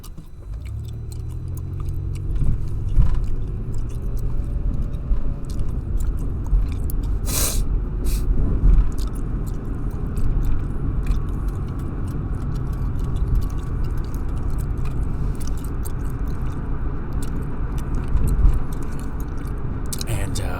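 Close, wet gum chewing repeats rhythmically inside a moving car, soft smacking and clicking over a low steady road and engine rumble while a person talks.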